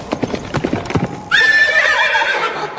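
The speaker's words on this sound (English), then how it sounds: "That's a stunning horse." Hooves clip-clop in a steady, close rhythm for the first second or so, then a horse lets out a loud, sustained whinny that rings on to the end.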